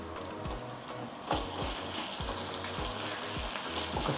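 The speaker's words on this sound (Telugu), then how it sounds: "అల్లం చిటాపటా అని అంటూ ఉంటే" Ginger sizzling in hot oil with fried onions for pulao, a steady dense crackle with faint periodic knocks and one sharper pop, close and moderately loud.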